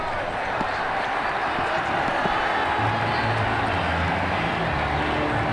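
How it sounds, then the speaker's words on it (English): Simulated stadium crowd in the cricket video game Ashes Cricket 2009 roars and cheers in a steady, dense wash throughout, with a low rumble swelling in the second half. "The crowd really enjoyed that."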